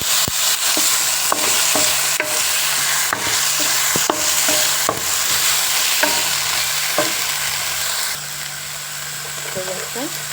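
Taro pieces frying in a pan for a dried fish curry, a steady loud sizzle with repeated clacks of a spoon stirring against the pan, close by, the frying easing slightly near the end.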